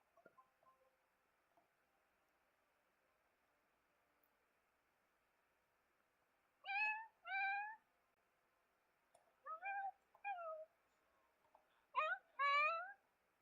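Repeated meows from a male calico cat in The Sims 4, clear and close, coming in pairs and a trio of rising, wavering cries against a quiet background.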